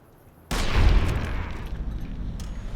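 A single sharp blast of gunfire in Fallout: New Vegas, fired through a body, bursting suddenly out of near silence and trailing into a rumbling decay, loud and close.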